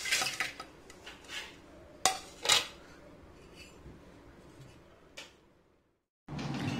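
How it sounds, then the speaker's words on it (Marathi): Jaggery being dropped into a metal kitchen vessel for raw mango panha, with several clattering knocks and scrapes of utensils against the pot, a couple of louder clanks, then a brief pause before more handling noise. "आता एका भांड्यात आपण गूळ टाकून घेणार आहोत."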